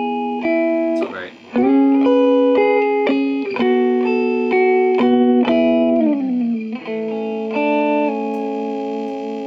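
Electric guitar played through a Quilter Overdrive 202 amp with its built-in reverb: a run of loud, sustained distorted chords and single notes changing every half second or so, each ringing into a reverb tail, with no voices.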